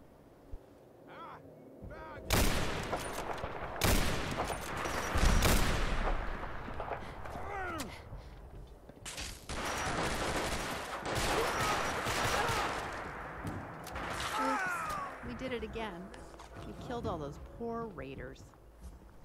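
Night-time gunfire in the video game Magnum Opus: several sharp, loud shots and bursts ring out with echoing tails, interspersed with quieter gaps while someone talks over the action.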